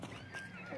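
A horse whinnies in the video game Hunt: Showdown, a short, fairly quiet high neigh with faint hoof-like clatter and a low background hum.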